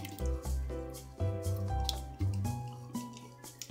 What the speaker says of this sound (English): I'm going to pour the spaghetti sauce into a pot